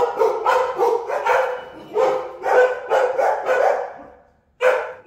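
A Belgian Malinois barks repeatedly indoors, sharp loud barks in quick bursts close by, then a short pause before a final bark.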